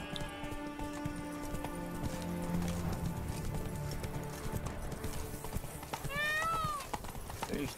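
A horse gallops in The Witcher 3: Blood and Wine on PC, its hooves clip-clopping steadily under background music, and a whinny rises near the end.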